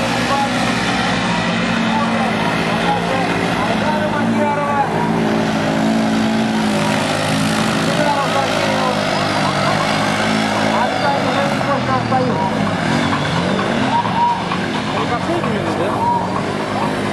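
Can-Am UTV racing cars run on a race track at a 2012 trophy event in Kazan, with loud continuous engine roar and revving throughout while a commentator talks over it.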